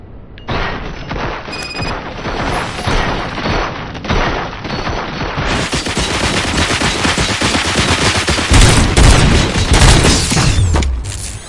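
Sustained automatic gunfire from the Robocop video game, loud and dense bursts of machine-gun fire with heavy booming impacts that build in intensity toward the end.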